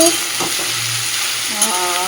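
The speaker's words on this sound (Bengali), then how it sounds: "ফুলকপি দিয়ে আলুটা ভাজা করি সেই জন্য ফুলকপি আলু ভাজা হচ্ছে" Cauliflower and potatoes sizzle loudly in a pan while being stirred, with a steady frying hiss and soft scraping touches throughout.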